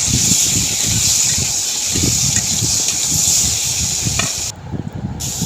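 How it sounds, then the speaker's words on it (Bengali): Spices for a vegetarian paneer curry stir-frying in a pan, a steady close sizzle with soft scraping stirs repeating every second or so, without talk. "সব মশলা দেওয়া হয়ে গেছে, এবার ভালো করে কষে নেব।"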